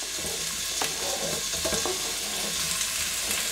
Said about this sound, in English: You want to keep it moving, mix it around with a wooden spoon, and you want to leave it to fry for 10 minutes